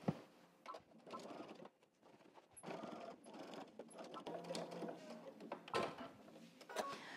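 A sewing machine stitches denim jeans in short, quiet bursts of rapid mechanical whirring separated by brief pauses, close by.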